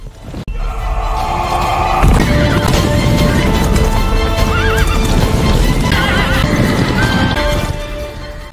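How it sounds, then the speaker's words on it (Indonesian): Cavalry horses charge into battle, hooves clip-clopping in a dense, continuous rumble with repeated loud neighs and whinnies cutting through the thundering gallop, close and sustained throughout. "Pasukan berkuda dari pihak Kotasu juga ikut terlibat dalam pertempuran"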